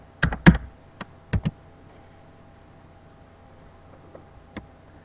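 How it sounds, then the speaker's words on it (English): Keys tapped on a computer keyboard to enter a short AutoCAD command, a few quick clustered clicks followed by scattered single taps, close and crisp in an otherwise quiet room. "Type grids and then hit Enter."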